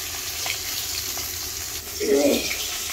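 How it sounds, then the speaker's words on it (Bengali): A large fish head fries in a pan of hot oil, a constant close sizzle and spatter with a brief louder burst near the end and no voices. "এটা মাছের মাথাটা অনেক বড়, একটু ভালো করে ভাজতে হবে"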